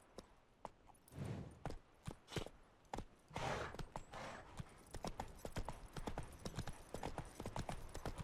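Roach the horse trots in The Witcher 3, with a steady run of distinct hoof clops on the ground, fairly close, and soft breathing and game sounds mixed in.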